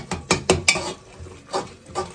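A spoon stirring and scraping through a tadka tempering in a metal cooking pot on a home stove, giving several sharp clinks in quick succession and then a couple of softer scrapes, close and clear with no talking.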